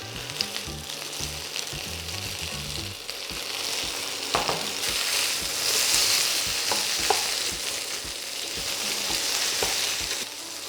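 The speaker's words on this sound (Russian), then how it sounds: "Сейчас мы еще его минут 5 обжарим." Diced potatoes fry in a pan, giving a steady close sizzle with occasional clicks and scrapes as they are stirred, and no talking.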